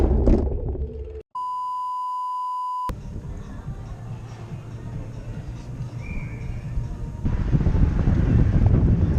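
Steady wind noise rumbles against the microphone at a cycling race in the Netherlands, with a brief electronic tone near the start and gusts growing stronger toward the end.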